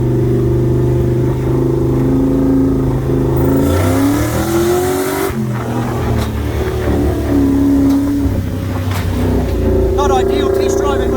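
A Toyota 1UZ-FE V8 from a HiAce van, fitted in a Bushlux with a sticking valve, idling loudly then rising in a couple of quick throttle stabs and settling back, close and continuous.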